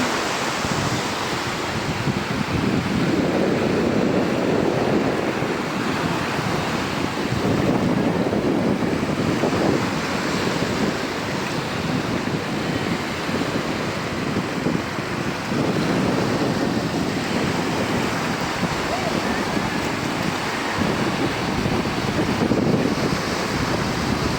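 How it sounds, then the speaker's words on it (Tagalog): Sea waves wash continuously onto a beach in a steady broadband roar, with wind buffeting the microphone throughout and no voices. "Waves of the sea."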